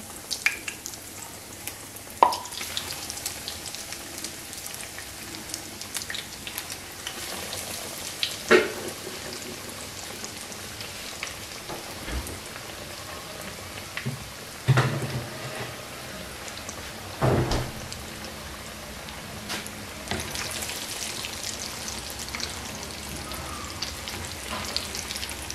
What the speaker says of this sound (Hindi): अब इन्हें मैं फ्राई कर लूँगी। ऑयल गर्म हो चुका है।